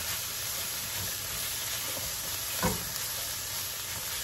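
Ground beef frying in a pan gives a steady, even sizzle and hiss close by, with one brief knock of a utensil partway through and no speech.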